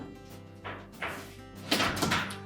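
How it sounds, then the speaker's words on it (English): A Whirlpool range oven door is swung shut, giving a few soft thunks and a firmer closing knock near the end, close by and moderately loud with no talking. "You can then close the door up."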